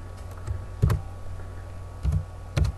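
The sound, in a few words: typing on a computer keyboard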